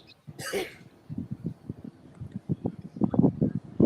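A burst of coughing up front, followed by rough throat-clearing and hacking sounds continuing under some low voices.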